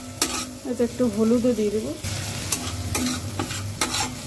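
Besan sabji frying in a pan is stirred with a spoon, giving scraping strokes over a steady sizzle, with someone speaking briefly over it.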